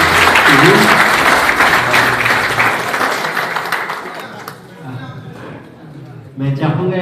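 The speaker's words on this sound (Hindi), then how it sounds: "एक बार तालियों से जोरदार स्वागत किया" A crowd at an evening civic meeting in Purnia applauds loudly to welcome a speaker, the clapping strongest at first and fading before a brief renewed burst, with speech over it.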